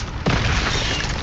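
Spell blasts from Confringo and Bombardo curses in Hogwarts Legacy: a sudden loud boom about a quarter second in, followed by a sustained roaring, crackling wash of magical energy over dense game noise.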